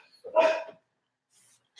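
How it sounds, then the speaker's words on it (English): A female dog named Nola gives one sharp, close bark indoors, followed by near silence and a faint rustle. "Can you stop barking?"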